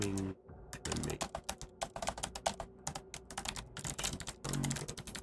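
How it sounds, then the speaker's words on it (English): Close, crisp clacking from a computer keyboard, with dense bursts of fast keystrokes and brief pauses between them, over a faint steady tone from PC gameplay. "I hope you guys enjoy the sound of my keyboard."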